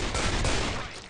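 M14 rifle fire in a competitive first-person shooter match, a dense burst of loud gunshots filling the whole moment before tailing off slightly at the end.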